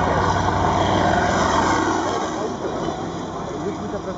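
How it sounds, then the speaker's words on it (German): The 18-cylinder double radial engine of a 1945 Grumman TBM-3 Avenger, rated at 1750 horsepower, drones loudly at a vintage air show. A steady, broad engine roar fades slightly toward the end, and a voice talks over it. "18-Zylinder Doppelstern."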